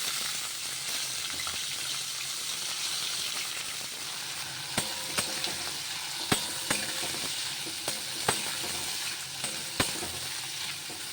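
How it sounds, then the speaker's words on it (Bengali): Sliced onions fry in hot oil in a pan for chicken biryani, a steady dense sizzle with occasional sharp pops and crackles, close and continuous without any talking. "পেঁয়াজ ভাজা হয়ে গেছে"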